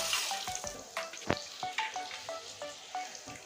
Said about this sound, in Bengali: শুধু লাল করে ভেজে নেব আলুটা ভাজা হতে থাকে